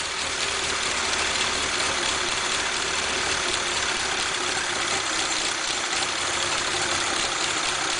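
MG Midget 1500cc engine idling steadily on a run test, a loud, even mechanical rumble with a faint knocking texture that continues unchanged with no talk over it.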